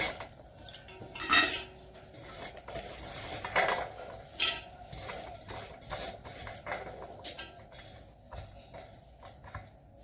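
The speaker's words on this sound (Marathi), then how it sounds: "तर सगळ्यात आधी ह्याला कुकरमध्ये शेंगा घालूया" Pigeon pea pods dropped into a metal pressure cooker, giving light scattered clinks, rattles and taps over about ten seconds at moderate loudness, with no talk.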